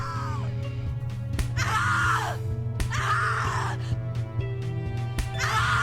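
A woman's screams in The Cat Lady horror adventure game, in several long anguished bursts separated by short pauses, sitting over a steady low drone of game music.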